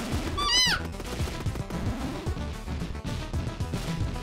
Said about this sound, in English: Definitely good explosions here.